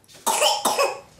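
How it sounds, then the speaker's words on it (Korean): A baby sick with pneumonia coughs twice, close and sharp, the two bursts a fraction of a second apart with no talk. "기침이 좀처럼 잦아들질 않네요."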